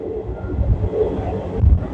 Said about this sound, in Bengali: এখন আমি যে ট্রেনে যাচ্ছি